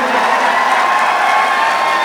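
A crowd at the Maharashtra Mushaira poetry event applauds and cheers for poet Apurva Vikram Shah, a loud, continuous roar of clapping and shouts with no break.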